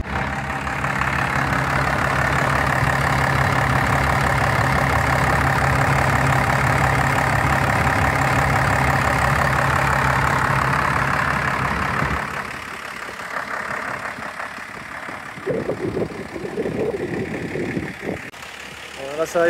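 A car engine idles steadily while cooling down after the coolant boiled over, a low continuous hum that drops away partway through, leaving wind and faint rustling.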